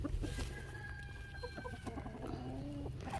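On a small home farm, chickens cluck and a rooster calls over a steady low background, with several overlapping bird voices at moderate distance.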